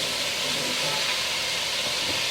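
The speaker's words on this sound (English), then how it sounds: "So I'm going to put the 2 medium chopped onions in the skillet, and we're going to cook this for about 4 minutes." Two chopped medium onions sizzling in a skillet, a constant close hissing fry with no breaks and no voices.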